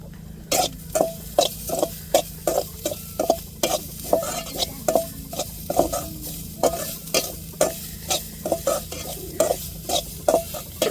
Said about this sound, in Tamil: நல்லா தேங்காய் பூவை வறுத்து எடுத்துக்கிடுவோம்